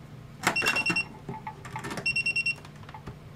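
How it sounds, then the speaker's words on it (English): A Hioki DT4252 multimeter sounds its continuity-test beep: a series of sharp electronic beeps, some held as steady tones and others as quick pulses, close and clear over a quiet background. "So again, this will be the continuity test."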